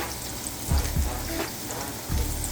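Onions and ingredients sizzle steadily in a hot pan while ramen is being cooked, a constant frying hiss broken by a few soft low clunks of stirring.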